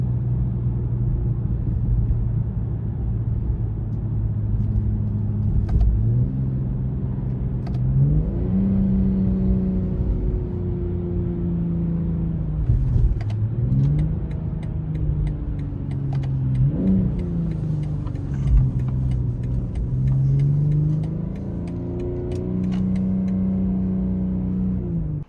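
A BMW G42 M240i engine pulls steadily while driving, its deep drone rising and dipping as revs climb and shifts drop back, loud and continuous from inside the car with no talking.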